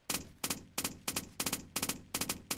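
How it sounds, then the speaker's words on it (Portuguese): Rapid bursts of gunfire from a weapon in the Roblox game Polybattle, eight sharp shots in quick regular rhythm, loud and close with no talking. "Gostei do sonzinho dessa arma."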